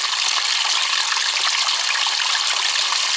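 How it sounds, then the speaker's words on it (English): Stream water flows steadily at a water source along the Appalachian Trail, a continuous bright rushing hiss close by with no voices. "Some good water source there."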